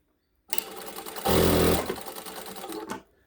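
A Sewtech SW-1968-L industrial sewing machine runs a programmed stitch sequence, whirring loudly and rising to a busier burst mid-run before stopping on its own with a final clunk, with no talk.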